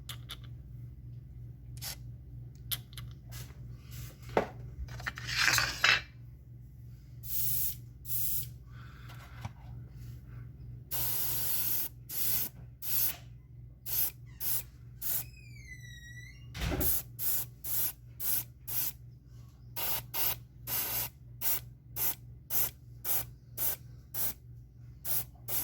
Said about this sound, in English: then I'll put it in the airbrush and then lightly highlight